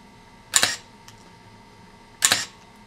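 Two crisp, quick camera shutter clicks at a 1/4000-second shutter speed, a couple of seconds apart, loud and close against a quiet background.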